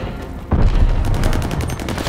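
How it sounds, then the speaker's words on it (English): A loud blast booms in the Call of Duty Vanguard multiplayer beta, followed by a dense rumble of gunfire and debris carrying on for about a second and a half. "Tossing grenade!"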